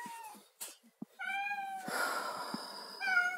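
A thin, scruffy-looking domestic cat meows several times in a row at close range, with drawn-out, tonal cries and short quiet gaps between them, in a quiet home setting.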